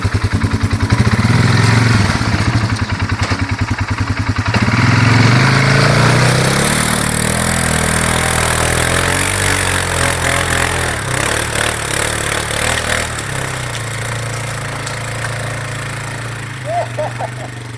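A loud ATV engine revs and labors steadily while climbing a snowy obstacle on a trail, holding a rough mid-pitched drone with rising surges and no talk.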